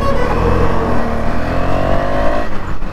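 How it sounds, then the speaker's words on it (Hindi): A KTM Duke 250 BS6 motorcycle engine runs loud and rough nearby, with a steady uneven rumble and a slight rise in pitch before it settles. No one speaks over it. "फुल रफ हो गई है भाई गाड़ी, तो नेक्स्ट लेवल रफनेस"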